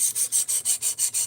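A knife stroked across a diamond sharpening plate of a different grit, about eight rhythmic, evenly spaced rasping passes, close and clear with no talk.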